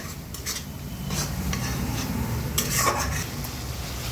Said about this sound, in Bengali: এখন নাড়িয়ে নিচ্ছি, তারপরে ইলিশ শুটকিগুলো দিয়ে দেব।